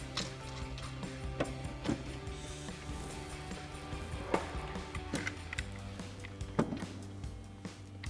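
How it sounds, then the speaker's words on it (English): A ratchet tightens button head bolts on a Jeep Wrangler JL while a running board is installed, giving quiet, rapid clicking across the whole clip with a few sharper knocks and clanks. "we can install our button head bolt with a washer"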